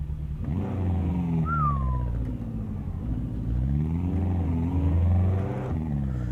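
Simulated BMW M4 engine in Euro Truck Simulator 2, played on a wheel, revving and accelerating with a steady mid-pitched rumble that rises and falls as the throttle changes, heard loud and alone.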